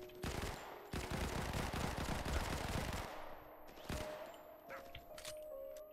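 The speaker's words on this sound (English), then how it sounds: "Oh my, someone's shooting." Gunfire in the Modern Combat 5 battle royale game comes as quick clusters of sharp shots and bursts across six seconds, fairly close and prominent over game ambience.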